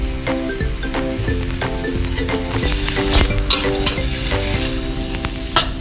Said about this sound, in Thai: น้ำมันร้อนแล้วเราก็ ใส่ถั่วงอกลงไปได้เลยครับ